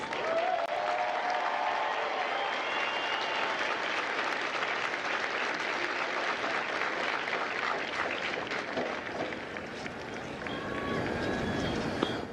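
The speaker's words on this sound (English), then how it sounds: "please join me in a round of applause for the company staff of Gulf Company" A large crowd at a Marine Corps recruit graduation ceremony at MCRD San Diego claps in a sustained, broad wash of applause, with faint voices and cheers mixed into the steady clapping.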